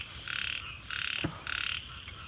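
Frogs croak at dusk beside a rain-swollen forest stream, three rhythmic bursts of rapid trilling calls, close and clear over quiet background.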